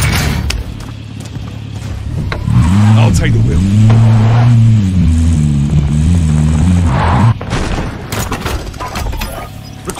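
A vehicle engine hums and revs steadily in Call of Duty Warzone gameplay, rising and falling in pitch as it drives, with scattered game sounds and distant gunfire.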